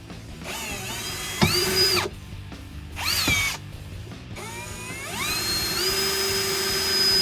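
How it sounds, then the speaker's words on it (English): Cordless power drill with a 3/8 bit bores a hole in a 2014-2018 Silverado or Sierra 1500 truck door, close and loud, revving up in several short whining bursts before settling into one longer, steady high-pitched run. "you may need to drill a hole in the door"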